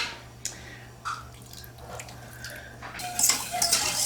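Water poured into a saucepan on the stove for caramel fudge, with soft drips and splashes followed by a louder, steadier pour near the end, close and without talk.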